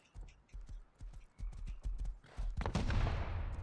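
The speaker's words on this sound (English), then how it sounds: "Oh, that's some explosions." In the video game Rust on a 1000x server, a series of sharp, punchy bangs and thuds rings out in quick succession, then gives way to a louder, sustained rumbling burst of explosions.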